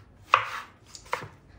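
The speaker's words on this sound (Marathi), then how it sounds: "यातले मी 2 टोमॅटो हे अशा प्रकारे बारीक कट करते" Two crisp knife strikes on a cutting board as tomatoes are finely chopped, close and distinct, with a short pause between them and no other sound.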